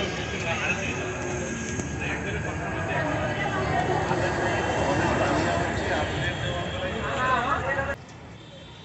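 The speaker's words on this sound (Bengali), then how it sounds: "ট্রেনটা ছেড়ে দিয়েছে" Inside a departing passenger train on the Cooch Behar journey, a steady low rumble and rattle of the carriage runs throughout under voices talking nearby, ending abruptly near the close.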